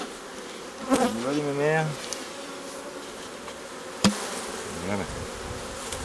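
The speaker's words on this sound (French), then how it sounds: "il y a des nuées d'abeilles devant" Honeybees swarm in front of Layens hive frames, their buzz a continuous drone under a beekeeper's brief spoken remarks, with a few louder passes as bees fly close to the microphone and a sharp knock partway through.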